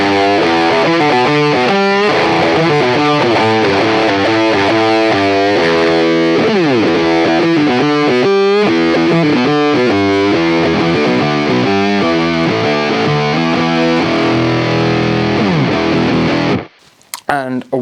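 Electric guitar run through a Line 6 Helix LT pitch shifter on an assignable channel, playing a busy, loud, distorted stream of notes and chords for about sixteen seconds with sliding pitch, then stopping abruptly.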